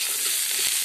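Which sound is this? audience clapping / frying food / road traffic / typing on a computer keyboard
frying food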